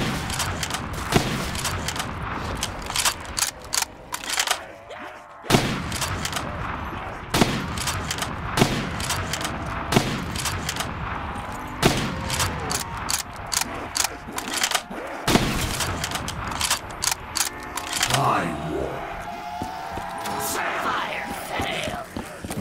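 Video game gunfire in a Call of Duty Zombies map, with repeated bursts of loud close shots and automatic fire, separated by short gaps, ending in mechanical clatter and muffled effects.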